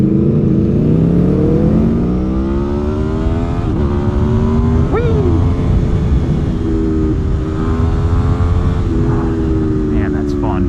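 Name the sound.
2021 Aprilia Tuono V4 motorcycle revving with new exhaust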